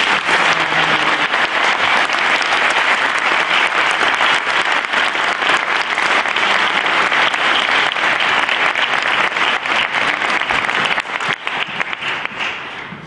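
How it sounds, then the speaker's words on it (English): An audience claps steadily and loudly at the end of a talk, a dense sustained round of applause that thins out toward the end. "Let's give him a round of applause."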